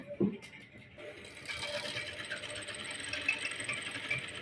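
A sewing machine test-stitching a line on fabric, with a steady, faint mechanical whir and rapid rattle. The sound begins after a brief knock and runs continuously for the rest of the clip.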